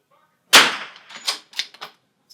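A single sharp, close, loud gunshot from a bolt-action rifle in an NRL22 precision rimfire match, with a quick ringing decay followed by a few crisp mechanical clicks.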